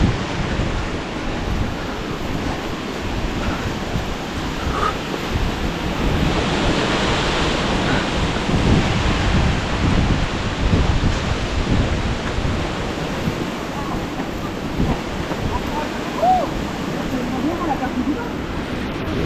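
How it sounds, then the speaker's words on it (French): Heavy rain pours down steadily during a muddy trail run, a loud, dense, unbroken hiss that swells slightly midway, with voices partly buried beneath it. "Et il drache encore."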